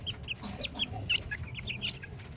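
Blue face hatch cross gamefowl hen clucking close by in a quick run of short, soft, irregular clucks, with no voices.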